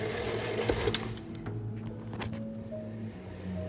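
An electric mixer beats butter with dark brown sugar for gingerbread cookie dough, giving a steady, fairly loud motor whir with a few rattling knocks early on before settling into a smoother drone.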